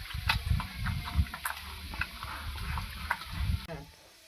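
Goat meat is mixed by hand with spices and oil, giving soft, wet squishing and rubbing sounds at close range that fade out near the end.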